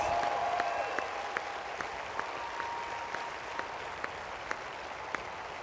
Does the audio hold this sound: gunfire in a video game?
no